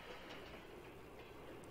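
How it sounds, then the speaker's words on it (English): A train rolls along the track in the A-Train 9 railway simulation game, a faint steady rumble with soft clatter, quiet and distant, no voices. "with this particular train, what it's going to do is it's going to continually continue up to the next factory"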